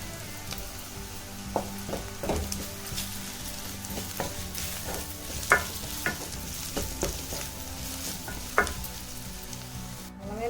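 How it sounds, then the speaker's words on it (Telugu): Ginger garlic paste frying with browned onions in a pan, a steady sizzle broken by scattered clinks and scrapes of stirring, close and alone with no voices. "ఇప్పుడు అల్లం వెల్లుల్లి పేస్ట్ వేసుకుందాం స్పూన్"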